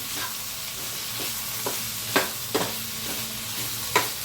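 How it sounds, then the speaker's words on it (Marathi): Brinjal frying in a pan sizzles steadily up close, with several sharp clacks and scrapes from stirring punctuating the hiss; no voices. "पहा असं वांगा त्याच्यात फ्राय करून घेऊया"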